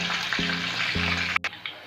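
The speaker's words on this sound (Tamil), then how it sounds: "இப்போ காளான் நல்லா ஃப்ரை ஆகிடுச்சு. சலசலப்பெல்லாம் குறைய ஆரம்பிச்சிருச்சு." Mushroom kaalan 65 pieces sizzle and crackle steadily as they deep fry in hot oil, a continuous hiss with a couple of low thumps and brief clinks, and no voices.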